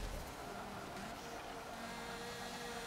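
Race car driving in Forza Motorsport 7, a faint, steady engine drone with road and tire noise, quiet and unbroken throughout.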